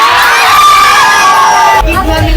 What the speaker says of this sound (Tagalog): naririnig nyo ba yung mga hiyawan?